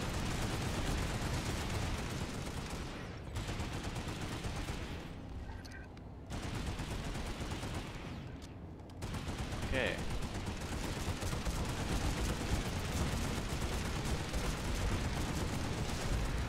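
LMG fire in Planetside 2 runs as sustained automatic bursts that fill the whole stretch and break off briefly twice. A voice talks over the shooting.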